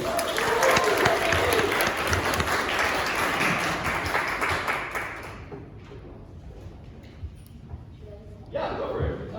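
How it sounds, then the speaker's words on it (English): An audience at a startup pitch event applauds the first pitcher coming to the stage, with dense clapping for about five seconds that dies away into room noise and a few stray sounds, then brief speech at the end. "can we please give a big round of applause for our very first pitcher, Yontika from Motion AI"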